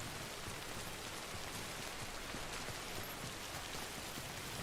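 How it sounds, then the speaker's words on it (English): Steady, dense rain falls in the video game Death Stranding, a constant broadband hiss with fine drop patter throughout, alone and without voices. "It is very rainy."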